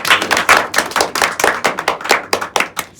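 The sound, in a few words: audience clapping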